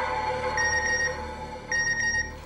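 A telephone rings in a sitcom household, sounding two bursts of bright electronic trilling tones separated by a short pause, clear and steady over a faint room hum.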